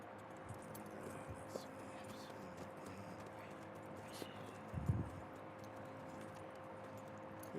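Horse hooves clip-clopping in Red Dead Redemption 2, faint scattered hoof steps over a low, steady ambient hum, with one slightly louder thud partway through.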